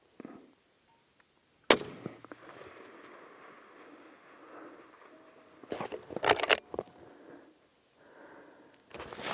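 A 7mm PRC rifle, a Savage Impulse Mountain Hunter straight pull, fires at a 1000-metre range with one sharp loud crack, followed by rustling and handling noises and a burst of clattering near the end.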